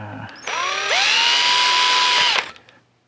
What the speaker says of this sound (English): So if I drill the holes after